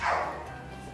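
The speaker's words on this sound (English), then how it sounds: "my neighbor's dog does not rest these days" A neighbor's dog gives a single loud bark close by, trailing off into a low steady background hum.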